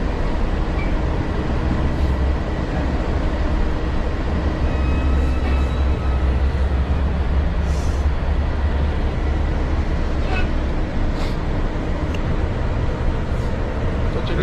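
Steady low rumble and rattle inside a large moving articulated bus in Kazakhstan, continuous and fairly loud, with faint creaks and clunks and no talking.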